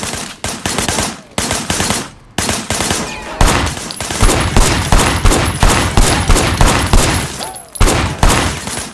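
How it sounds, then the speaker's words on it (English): Rapid automatic gunfire rattles nonstop in the Sleeping Dogs Definitive Edition video game, loud dense bursts of shots running throughout with only brief pauses. "I want you to put some bullets in a few things."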